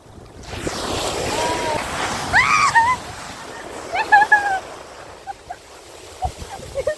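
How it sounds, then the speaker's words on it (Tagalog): A big ocean wave surges and crashes nearby at Christies Beach, South Australia, in a broad rushing roar, with people's excited voices rising over the water at points. "ang laki ng alon na yun"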